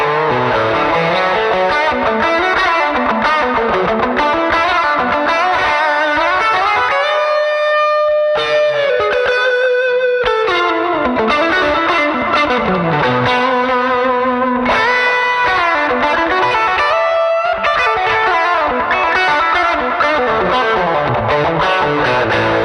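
An electric guitar with reverb and delay plays through a Neural DSP amp plugin, a loud funky passage of busy strummed chords and sliding riffs, with short pauses between phrases.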